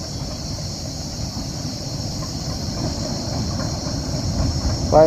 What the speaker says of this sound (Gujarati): ફાઇનલી આપણી ટ્રેન સાસણ ગીર સ્ટેશન પર આવી ગઈ છે